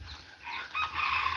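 Bantam chickens, a hen and a rooster, give a short, faint burst of clucking and crowing-like calls, heard alone over a low background.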